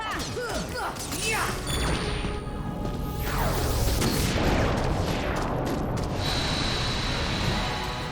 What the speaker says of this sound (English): Don't look at the explosion, Goofy